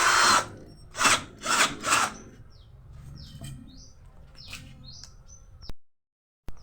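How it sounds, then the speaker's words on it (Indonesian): A Morris 16.8V 10mm brushed cordless drill whirs in four short, loud bursts as it bores through material, then falls quiet while birds chirp in the background. "Sekarang bor kipas 25 mili dan ini yang terbesar yang saya punya"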